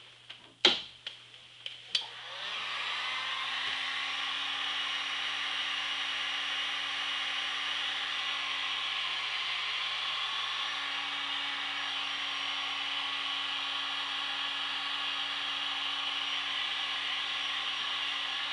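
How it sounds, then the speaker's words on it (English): Heat gun blowing a steady, close airy hiss and whine onto a walnut bow being bent straight, switched on after a few sharp clicks and handling knocks, then running continuously. "I should actually have the heat gun on this while I'm doing it."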